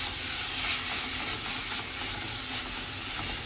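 A carrot and coriander mixture sizzles steadily in a frying pan as it is stirred, with an even, continuous hiss close by.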